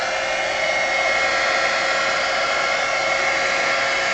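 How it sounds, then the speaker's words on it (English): A heat tool blows hot air onto fiber paste on a craft mat, giving a loud, steady, uninterrupted whoosh from close by for the whole stretch. "So I'm going to take my heat tool,"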